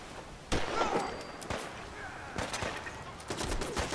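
Scattered gunshots from a Fallout 4 firefight, a few sharp cracks spaced across a few seconds over a steady background hum, moderately loud.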